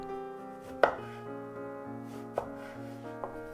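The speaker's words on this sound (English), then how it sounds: "Cut sections, and in each section, make 5 slices, keeping them linked on one side." A knife chops through an eggplant on a board, cutting it into sections: three crisp thuds spaced across a few seconds, with steady music playing underneath.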